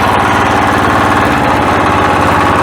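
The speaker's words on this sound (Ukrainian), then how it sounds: "Цей мотоблок з електричним стартером. Вейма завжди не підводить, вейма завжди працює." A Weima walk-behind tractor with an electric starter runs loud and close, its single-cylinder engine holding a steady, throbbing idle with a fast, even pulse throughout and no talking.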